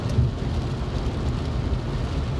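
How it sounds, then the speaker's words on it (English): A car drives along a motorway through standing water, giving a continuous heavy roar and broadband rush of tyres and spray, loud and close with no distinct separate splash. "There's quite a lot of standing water on the motorway then. I don't know whether you heard that or not, but there was a big splashing noise"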